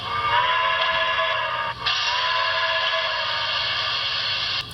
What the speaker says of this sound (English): This is now the second whistle, which is CB224 set to 1.